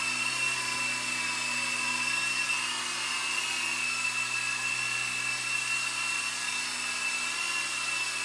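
A hobby-built RC model of NASA's Ingenuity Mars helicopter flies, giving a constant high-pitched whine of spinning rotors and motors with a steady tonal hum, close and uninterrupted.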